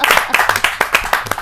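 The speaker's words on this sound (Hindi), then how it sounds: "ताली बजाओ।" Audience applause at a Hindi kavi sammelan poetry recital, a burst of brisk rhythmic hand clapping, close and fairly loud, with slight crowd noise beneath.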